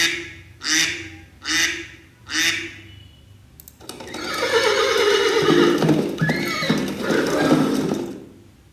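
A horse neigh sound effect plays from a button in a Unity-built mobile app, with three short whinnies in a row followed by a longer, busier stretch of neighing and snorting. No one speaks over it.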